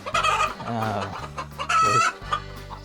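Chickens cluck loudly and close by, with squawky, excited calls rising over a low, steady hum; a few sharp bursts stand out.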